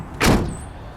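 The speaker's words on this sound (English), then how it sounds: "I mean, that still shuts easy." A Pontiac Bonneville car door shuts once with a single solid thud, close by and fairly quiet, followed by a faint high whine.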